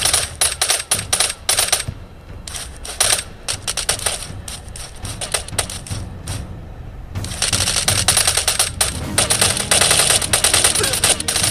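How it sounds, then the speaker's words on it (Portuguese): Gunfire in the video game Last Island of Survival: rapid automatic bursts rattle loud and close in repeated clusters with brief gaps, a faint voice now and then. "Ah, tá atirando em mim"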